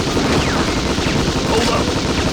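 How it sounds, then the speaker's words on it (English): Dense, continuous heavy machine gun fire in the Metal Slug 3D video game, a loud sustained rattle of rapid shots with explosive texture, filling the whole stretch without pause. "Heavy machine gun."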